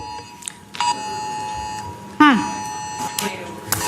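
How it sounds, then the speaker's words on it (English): A phone's emergency tornado-warning alert sounds through a public city meeting as a steady electronic tone with beeps, heard under people talking and room noise. "Tornado warning, according to my phone, until 9 p.m. Take shelter now."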